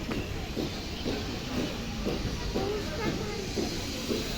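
Boarding a train on a platform: broad steady hiss and rumble of a station, with rhythmic faint clicks and clatter, speech buried under the constant noise.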